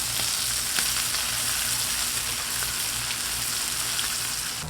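Edges of bacon-wrapped grilled cheese sandwiches sear on a Blackstone griddle with a loud, steady, close sizzle and crackle that runs unbroken, and no one speaks.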